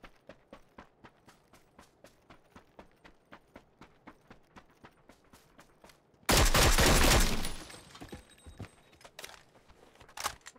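An SKS rifle fires one loud, close shot that rings out for over a second, following a long run of faint, rhythmic ticking.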